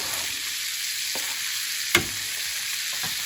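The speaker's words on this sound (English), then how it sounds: "So give that a nice stir until the tomatoes are soft." Tomatoes fry with browned garlic and chilli in a pan, a continuous sizzle with a few scraping stirs and one sharp clack near the middle, no talking.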